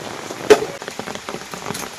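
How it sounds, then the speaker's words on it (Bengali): Heavy rain in a Sundarban village pours steadily onto nearby surfaces, a dense continuous patter with scattered louder drops and one sharp close splash, with no voices. "আর যা ঝুম বৃষ্টি শুরু হয়ে গেছে"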